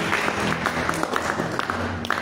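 A church congregation clapping and cheering during worship, dense continuous applause from many hands, close and loud for a couple of seconds.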